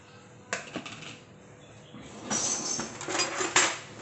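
Spatula scraping down the sides of a homemade peanut butter batch, a few short scrapes and clatters against the container, fairly close, with a louder stretch of scraping toward the end.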